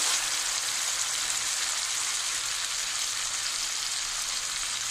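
Ginger paste, chili and mustard fry with a little added water in a pan for prawn malaikari, making a continuous hissing sizzle close up, steady and even throughout, with no voices.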